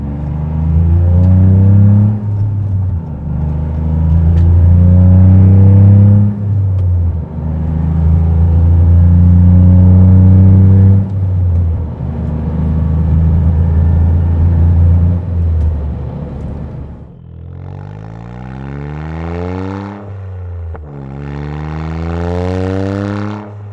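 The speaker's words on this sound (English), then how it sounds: "It's gonna gently accelerate to the speed limit of 110 k's an hour." A Toyota GR Yaris fitted with a titanium exhaust accelerates gently to highway speed: a loud, close engine drone rises in pitch through several gears, with brief pauses at each shift and a final surge near the end.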